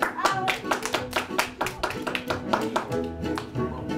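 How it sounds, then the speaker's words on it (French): Audience at a children's magic show claps in brisk, distinct hand slaps, fairly close and uneven in rhythm, with some talking underneath. "on peut l'applaudir bien fort"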